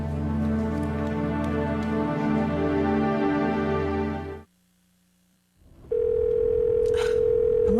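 An unanswered telephone call in a TV drama scene: a loud buzzing ring tone through the line, a brief silent gap, then another steady ring tone starts, with no talk over it.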